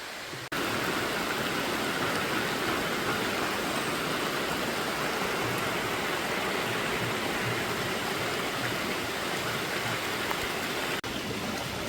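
A forest stream at Ayyanchola rushes steadily downhill, a dense, unbroken wash of flowing water that stays loud and even throughout, with no voices.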